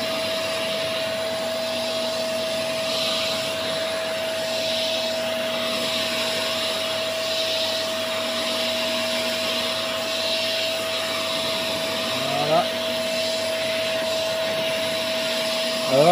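A Silvercrest fabric cleaner runs with a steady loud motor whine and a constant tonal hum as it sprays water, with a couple of brief squeaky scrapes near the end and no speech over it.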